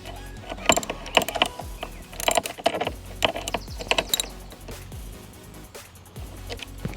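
A socket ratchet on an extension tightens the bolt of a pole steering mount on a Hobie Pro Angler 360 kayak, giving several bursts of quick metallic clicks with short pauses between them, close up and with no talking.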